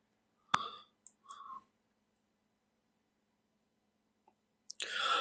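A single sharp mouse click sends an Office 365 meeting request, followed by a few faint soft clicks and a brief rustle in an otherwise quiet room.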